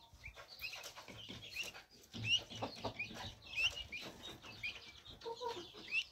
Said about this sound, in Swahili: vifaranga wa bata mzinga huwa wanatoa hizi sauti unazozisikia